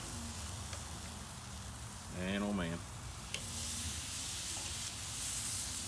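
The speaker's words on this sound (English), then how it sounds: "Love that sizzle." Ribeye steaks sizzle on a hickory wood fire grill, a soft, steady hiss running throughout while someone briefly speaks over it.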